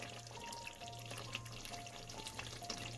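Fried tomatoes go into a pan of cooking brinjal curry, giving a steady soft sizzle and frying crackle with light stirring scrapes, faint and continuous, with a low hum underneath.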